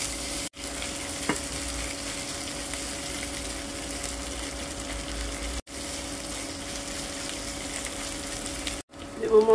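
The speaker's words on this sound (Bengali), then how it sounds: "পেঁয়াজের সাথে আবারও ভেজে নেব।" Onion frying in oil with garlic paste and ginger paste, a steady close sizzle that runs unbroken through the clip apart from a few brief dropouts, with occasional stirring scrapes.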